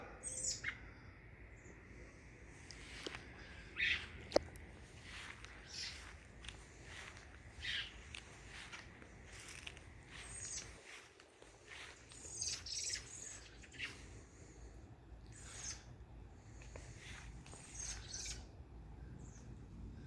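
Birds chirp and call in a garden, with short bright tweets scattered across the scene over a soft outdoor background, and occasional light rustling or footsteps nearby.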